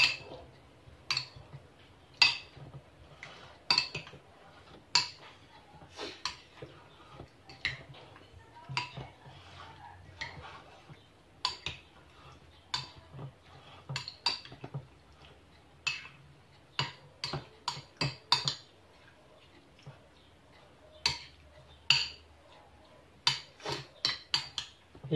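Utensils clinking against a bowl while stirring kinilaw fish soaked in vinegar, a long series of sharp, uneven taps and scrapes, quiet and close, with occasional faint voices.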